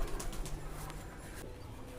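A pair of foreign high-endurance pigeons cooing softly at close range, faint low murmuring coos over a quiet background, no talk.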